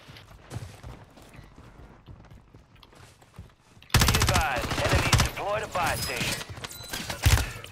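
Rapid automatic gunfire in a multiplayer shooter video game, faint distant shots at first, then a loud close burst of sustained rattling fire with chaotic battle noise. A voice talks underneath.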